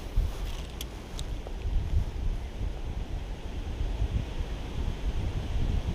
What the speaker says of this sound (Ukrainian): ви самі бачите, який вітер дує.